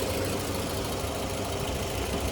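A 2015 Toyota Tarago GLi idling with its engine running, a steady close-up mechanical rumble and hum that stays constant throughout with no talking.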